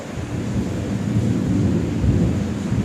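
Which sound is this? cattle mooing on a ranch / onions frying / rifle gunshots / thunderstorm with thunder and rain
thunderstorm with thunder and rain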